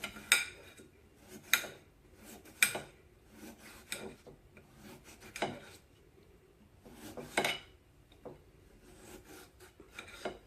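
A kitchen knife slicing vegetables straight across for meatloaf, irregular clacking strokes against a cutting board with scraping in between, close and fairly crisp, no voices.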